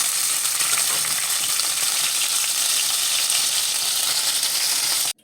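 Cube steaks sizzling as they brown in a pan, a steady, loud frying hiss with fine crackle running continuously until it cuts off abruptly at the end.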